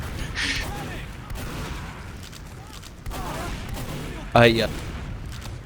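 Gunfire and explosive weapon blasts from a Team Fortress 2 competitive 6v6 esports match, scrappy exchanges of shots with one sharp louder burst near the end, heard under continuous casting commentary.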